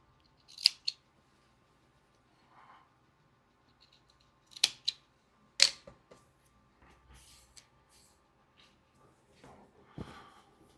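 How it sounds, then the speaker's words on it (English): Scissors trimming fabric or paper close by, a few separate crisp snips spaced several seconds apart, quiet between them with faint handling noise. "now I am going to trim these"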